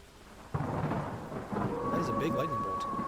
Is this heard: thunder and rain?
yes